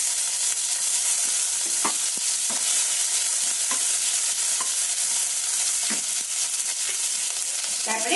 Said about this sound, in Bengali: এবার এই পেঁয়াজ লঙ্কা এগুলো একটু ভাজা ভাজা করে নেব